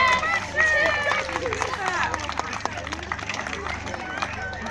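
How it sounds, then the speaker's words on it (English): Scattered, modest applause from a small crowd for a fourth-place winner at a dog show, light clapping under murmuring voices and a hum of background noise. "A round of applause for Patrick."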